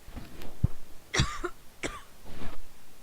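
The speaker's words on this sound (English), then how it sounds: "Got a cough going here." A few short, rough coughs spaced out over a few seconds, close to the listener and moderately loud, with a throat-clearing sound among them.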